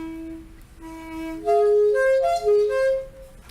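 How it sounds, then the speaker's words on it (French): A sound sculpture carved from Lebanon cedar wood is played, giving sustained, clear, bell-like tones that overlap and ring in a short melodic phrase, close and fairly soft with no talking. "Ça, c'est le chant du cèdre."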